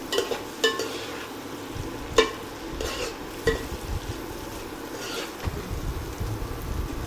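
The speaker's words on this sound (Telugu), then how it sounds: "ముందుగా మనం ఉడకబెట్టుకున్న చిక్కుడుకాయలు ఇందులో వేసేసుకున్నాం. మంచిగా కలుపుకోవాలి." Boiled broad beans are stirred in a pan, a close, repeated scraping and shuffling of the spoon at an irregular rhythm, with a light sizzle underneath.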